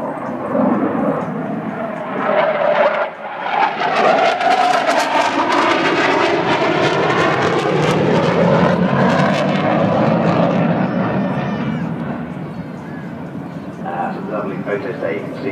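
A Tornado jet aircraft dips low for a strafe pass, a loud roaring engine swelling and shifting in pitch as it sweeps past over about fifteen seconds, with a voice talking over it.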